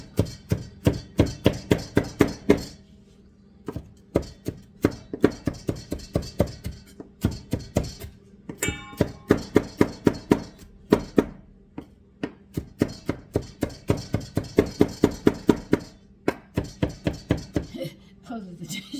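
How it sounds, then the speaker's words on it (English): Metal dishes clatter and bang against each other in a kitchen sink, a dense run of sharp, close knocks in quick bursts with short pauses between. "Those are the dishes in the sink you hear banging because they're metal against metal."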